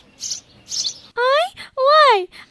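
A lark in an animated children's story gives bright, clear chirps, two short rasping calls followed by two longer swooping whistled notes, loud and close with nothing else heard.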